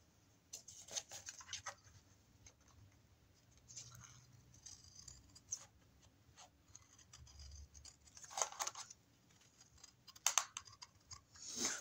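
Scissors snip and cut through paper for a scrapbooking chest-of-drawers kit, giving soft, irregular clicks and rustles at low volume, close by, with faint background murmur.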